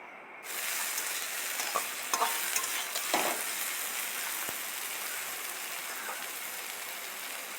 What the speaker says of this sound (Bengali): কড়াইতে সর্ষের তেল দিয়ে পটলগুলোকে ভেজে নেব